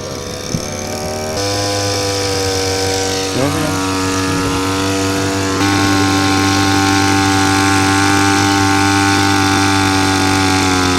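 A motorcycle-mounted crop sprayer runs on a farm with a steady, loud engine drone that steps up in pitch and intensity a couple of times as it keeps running.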